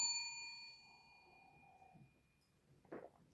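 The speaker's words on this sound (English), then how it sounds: "There's the dinner bell." A bell rings once with a clear tone that fades over about two seconds, fairly faint over a low background hum, with a brief rustle near the end.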